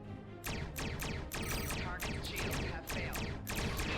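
Rapid bursts of starship photon cannon fire in a Star Trek Online space battle crackle in a dense, loud barrage, with sharp blasts repeating quickly over a noisy rumbling background.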